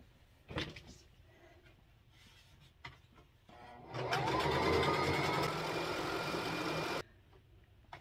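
A sewing machine stitches fabric for a bowl cozy in one steady, fairly loud run of about three seconds, preceded by quieter handling noises.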